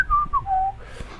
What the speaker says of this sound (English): it's bad luck to whistle in theater